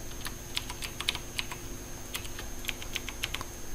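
Password being typed on a computer keyboard, a quick irregular run of light key clicks close by in a quiet room, with no talking.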